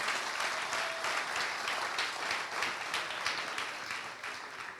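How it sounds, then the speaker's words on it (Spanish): A church congregation at a leadership summit gives a sustained round of applause, dense even clapping at steady volume with the crowd fairly close. "Si le va a dar el aplauso,"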